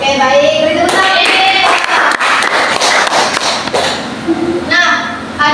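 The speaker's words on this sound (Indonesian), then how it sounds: "Beri tepuk tangan." Students in a classroom clap together for a classmate, a dense burst of close hand claps that continues for several seconds with children's voices mixed in before fading.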